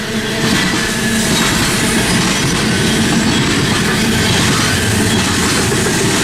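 Freight train of covered hopper cars rolling past near Tehachapi, loud and close, with steady rumbling wheel noise and clickety-clack over the rails the whole time.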